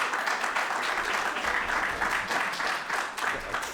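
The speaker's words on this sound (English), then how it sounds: "So, round of applause," Conference audience applauding a speaker, a continuous dense patter of many hands clapping throughout, moderately loud and even, with no voice over it.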